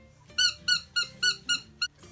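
A squeaky rope dog toy squeaks six times in a steady rhythm, each squeak sharp, high and close. Nothing else is heard between them.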